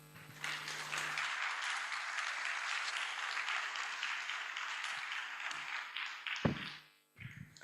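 Sustained audience applause at a mobile app launch event, dense and even clapping that swells in, holds steady for several seconds, then breaks up with a few scattered claps and knocks before fading out.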